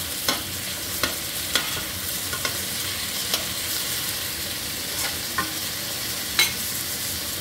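Garlic and tomatoes sauté in a pan for pinakbet with shrimp, giving a steady close sizzle and frying crackle, broken by sharp scraping stirs and clacks of a utensil against the pan every second or so.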